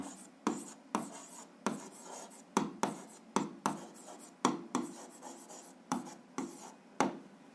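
A pen writes by hand on paper while an algebra answer is noted down, making quick repeated strokes with sharp taps in an uneven rhythm, close and alone.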